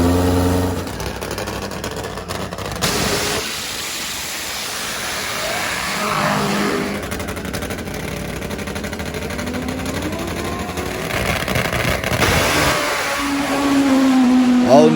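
Larry McBride's Top Fuel nitro drag motorcycle makes a straight run, its engine roaring loud and harsh with rising revs across the whole stretch, while a commentator talks over it.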